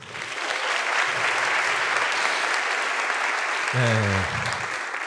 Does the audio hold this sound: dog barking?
no